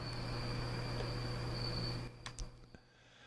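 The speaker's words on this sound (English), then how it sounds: "Can you hear the crickets?" Crickets chirp outside an open window in a steady, high-pitched trill against faint outdoor hum, then the chirping cuts off near the end after a few soft knocks.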